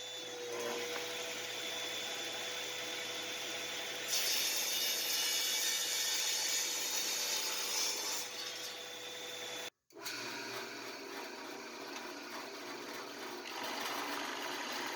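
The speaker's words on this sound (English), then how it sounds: "So it's going to get sliced on the table saw." A table saw steadily whines as it slices through a brass drill press jig in an underground workshop, the cut holding an even, sustained pitch before a brief drop and a return to a fainter running hum.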